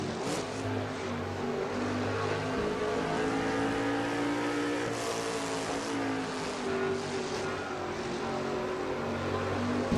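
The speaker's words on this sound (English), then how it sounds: "Off corner number 10 here, and Matt McIntyre still staying ahead of that number 10 truck of Joshua Osborne as they come in the front stretch" Racing trucks roar around the Watkins Glen track in an NNSCRA truck series race, several engines droning loudly and continuously with rising and falling pitch as they pass.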